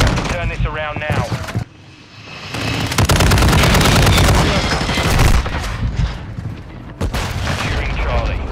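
Gunfire in the Call of Duty: Modern Warfare II video game, with dense rapid bursts and booming shots that pause briefly and then resume, loud and close, under shouted in-game voice callouts.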